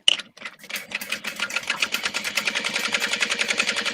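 A sewing machine starts up and settles into fast, even stitching, its rapid mechanical clatter steady and close, sewn during a casual sew-together session.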